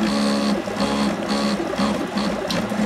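A small homemade 3D printer works through a print, its motors giving a steady, close whirring hum with repeating rhythmic pulses and short pauses.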